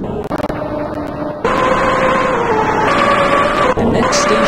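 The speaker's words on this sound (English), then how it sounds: "The door chime." A loud electronic two-tone chime sounds as train doors signal, sustained tones ringing over steady rumbling cabin noise.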